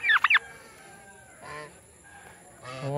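A male fowl calls with loud honking calls, a quick burst of harsh honks up close, then two softer drawn-out calls a moment later.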